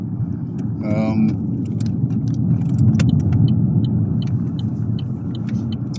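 A car driving along a road gives a continuous low rumble of engine and tyre noise from inside the cabin, with scattered small clicks and rattles on top.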